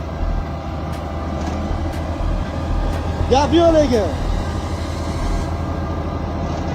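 A tractor hauls fifteen to twenty loaded railway-style wagons, producing a continuous low engine rumble, while someone talks over it and a brief wavering tone rises and falls near the middle.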